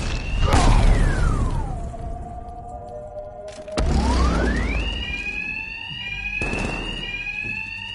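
Alarms wail in the video game Batman Arkham Knight as loud siren tones that sweep down and then back up. Sharp whooshing impacts and crashes from a fight cut across them, and no one speaks.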